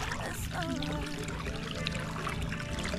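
Water pours and trickles steadily in hot weather, a continuous splashing rush close by, with faint voices underneath.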